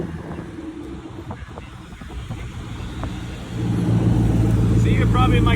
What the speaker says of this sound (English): But Koenigsegg is about to leave.